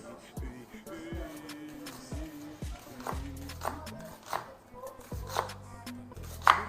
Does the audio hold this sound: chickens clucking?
no